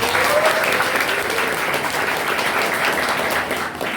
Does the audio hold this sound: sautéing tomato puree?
no